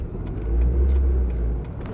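Manual-transmission car engine during a first stick-shift driving lesson, a steady low rumble that swells slightly midway as it revs, heard close up with no talking.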